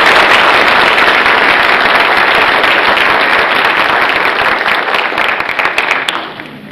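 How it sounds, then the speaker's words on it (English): A large audience at an evening event applauds loudly and steadily, a dense wash of many hands clapping that holds for several seconds before tapering off at the end. "I think we really should give Marilyn and Jim a round of applause"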